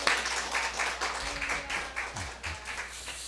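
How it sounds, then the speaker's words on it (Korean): A church congregation applauding during a praise worship service, a dense steady patter of many hands clapping at once, with a low thumping underneath. "뜨거운 박수로 환영하겠습니다"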